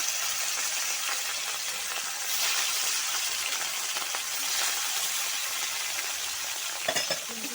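Pieces of katla fish frying in hot oil in a kadai give a loud, steady sizzle, with occasional scraping stirs of the spatula near the end and no talking.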